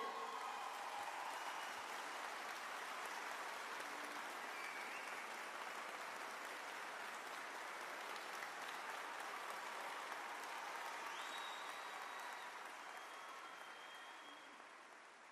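A concert audience at an anniversary show in an arena applauds a singer as she is introduced, a sustained wash of clapping and cheering that stays steady for about fifteen seconds before easing slightly at the end.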